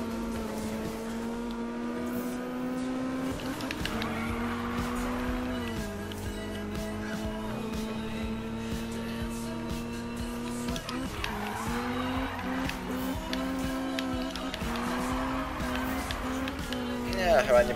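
A car drifts in Need for Speed 2015, its engine droning and rising while the tires squeal in long skids, with game sounds and someone talking over it throughout.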